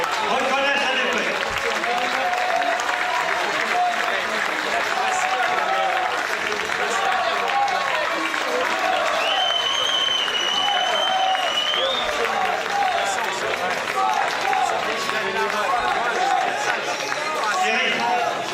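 Boxing-match crowd applauding the defeated fighter Benoît, steady clapping and crowd noise running throughout under a loud announcer's voice and chatter, with a brief whistle-like tone partway through.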